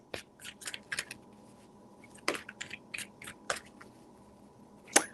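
Tarot cards shuffled by hand, giving a series of soft, crisp riffling bursts with a few sharper snaps, close and fairly quiet with no talking.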